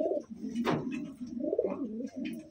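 A pigeon in a breeder's loft coos with a soft, throaty, repeated warble, close and steady, with a brief sharper chirp near the start and no talking over it.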